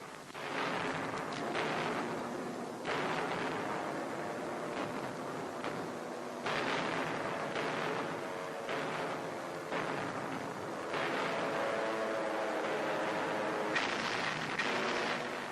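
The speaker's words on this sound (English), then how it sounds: "American and RAF bombers blast the enemy across a 40-mile front, unleashing tons of high explosive" Bombs from American and RAF bombers explode across a desert front in a 1942 North Africa raid, heard as repeated heavy booming blasts in old newsreel sound with a constant rumbling background.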